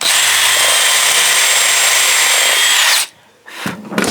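A power drill whines steadily at full speed while pre-drilling into pine wood, loud and close for about three seconds, then stops and gives a couple of brief bursts.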